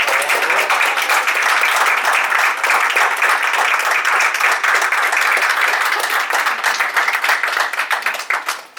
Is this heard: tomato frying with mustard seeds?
no